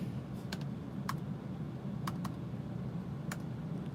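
Keys clacking on a computer keyboard in a quiet room, a few sharp isolated taps spread across a steady low background hum, with no talking.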